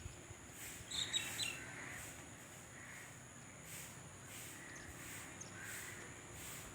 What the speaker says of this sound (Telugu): పక్షులు అయితే ఇలా గూటికి చేరుకుంటున్నాయి.